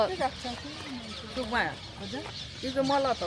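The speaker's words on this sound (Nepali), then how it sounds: "यहाँ चाहिँ एकदम नेपालको कुखुराहरू पनि पाउँदो रहेछ।" Chickens cluck repeatedly nearby along a hiking trail in Honolulu, Hawaii, with rising and falling bursts of clucks and a voice talking over them.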